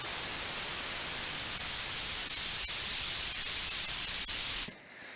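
Loud, steady hiss of white noise played through an Analog Obsession ReLife EQ plugin, its tone shifting slightly as the shape control is turned up, then cutting off abruptly near the end.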